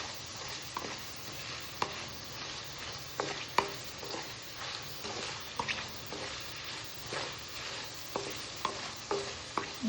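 Potatoes with salt and turmeric fry in a keema mixture, a continuous close sizzle broken by regular scraping stirs of a spatula against the pan at a steady pace.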